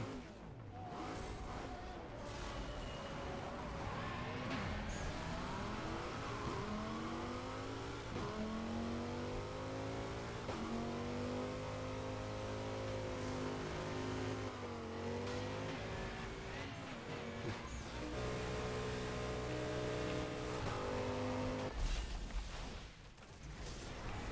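Car engine revving during a one-on-one race in the video game Burnout Paradise, a continuous loud roar with rising and falling pitch as the car accelerates and shifts, no talking.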